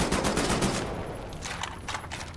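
Two guns fired at once in Wolfenstein: The New Order let off rapid, close automatic bursts. Dense stuttering fire opens the clip, then shorter volleys follow after a brief lull.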